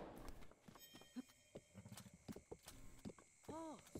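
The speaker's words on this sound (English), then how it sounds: "Let's go, horse." Hoofbeats of a horse galloping in The Legend of Zelda: Breath of the Wild, a steady rhythmic clatter of game sound effects with other in-game noises layered around it.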